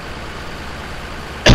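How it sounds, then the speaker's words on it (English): A single short cough from a man with a sore throat, loud and close, bursting out at the end over a low steady hum of a running engine from a farming game. "that's kind of why I cough every once in a while."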